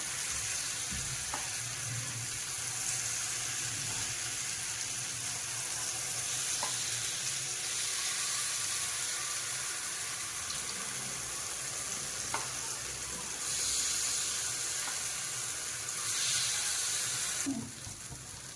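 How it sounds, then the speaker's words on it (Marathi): Sweet pumpkin batter poured into a hot appe pan sizzles in a steady, fairly loud hiss that holds for most of the stretch before cutting down near the end. "आता आपण आप्पे पात्रात सगळ्यात आधी साईडचं घालून घ्यायचं"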